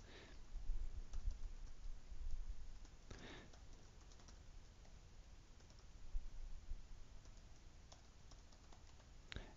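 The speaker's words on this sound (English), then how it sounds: "you simply click the Create Project button and type in your project name" Fingers type on a computer keyboard, faint close clicking keystrokes in short irregular bursts with brief pauses between them.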